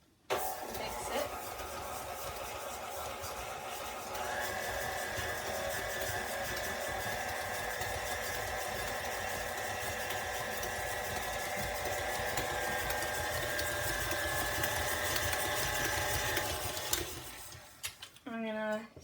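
An electric mixer whirs steadily as it creams butter and sugar, a continuous motor hum that shifts pitch partway through and cuts off near the end, followed by a few brief clatters.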